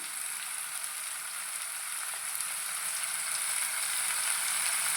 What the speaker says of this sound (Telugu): ఇప్పుడే సాల్ట్ వేసుకున్నాక చికెన్ని చక్కగా వేయించుకుందాము